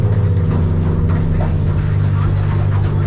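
A Duckworth 240 Pac Pro boat with an F-350 engine is under throttle on the water, giving a loud, steady, close engine drone with a constant low rumble and no talking.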